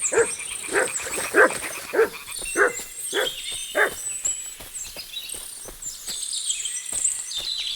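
A dog barks repeatedly in Kingdom Come: Deliverance 2, about seven loud, close, evenly spaced woofs over roughly four seconds before it goes quiet, with faint birdsong and outdoor ambience continuing beneath.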